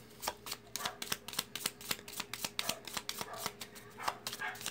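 Dog barking outside on the street, heard from indoors as a rapid series of sharp, fairly faint barks repeating irregularly throughout.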